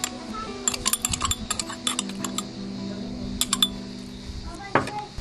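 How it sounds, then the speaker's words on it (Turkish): A spoon clinks and scrapes against a bowl while stirring chopped sour cherries into cake batter, a series of light irregular taps under quiet talking nearby. "Vişneler homojen dağılacak kadar karıştırıyoruz kaşıkla."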